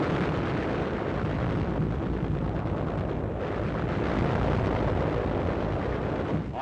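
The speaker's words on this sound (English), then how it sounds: "Shelling Zebra Hill in the final blow to demolish the position." Wartime artillery shelling of Zebra Hill on the Okinawa Shuri line, heard as a continuous dense roar of blasts and rumbling booms, loud and broad, with no individual shots standing apart.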